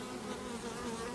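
Honeybees buzz continuously around an open hive during an inspection of a queenless colony, a dense close-up drone of many wings without a break.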